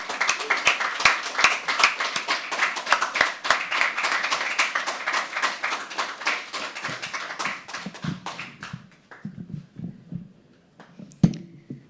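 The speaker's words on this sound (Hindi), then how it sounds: "तालियां बजती रहनी चाहिए।" An audience at a live poetry open mic at The Habitat applauds a poet with dense, lively clapping that carries for several seconds, then thins to a few scattered claps and quiet shuffling.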